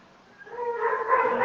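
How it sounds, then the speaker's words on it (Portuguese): A dog in the background gives a drawn-out, whining bark-like cry that grows louder through the second half, heard alone with no talk over it. "O cachorro tá latindo, hein?"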